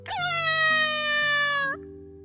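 A cat sound effect for a children's audiobook: one drawn-out, clear meow with a rising start and a long falling tail, over a quiet, low sustained musical backing.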